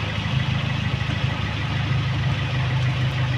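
A Toyota Vios on a full steering turn gives a steady, close engine drone with a low rumbling hum, while a worn stabilizer link adds faint knocking and creaking noise underneath throughout.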